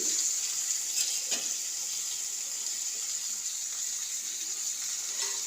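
Ivy gourd (tindora) fries in oil on the stove with a continuous bright hiss of sizzling. A couple of faint stirring knocks sound near the pan, which is close and steady, and no one speaks.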